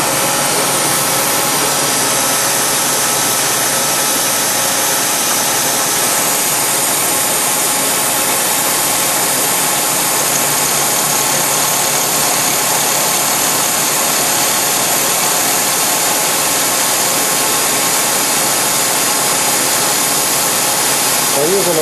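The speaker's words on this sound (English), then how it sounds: "By using a smaller diameter carbide cutter, I can speed things up a little bit." Milling machine with a small-diameter carbide cutter radiusing a corner on a Bradley GT II tilt hinge part, a steady continuous whirring motor and cutting noise for the full stretch, loud and even, with someone speaking over it.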